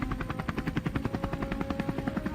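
Helicopter rotors thump rapidly while a machine gun fires from the air at wild boars on open plains, the blade beats and shots merging into a loud, fast, even pulse.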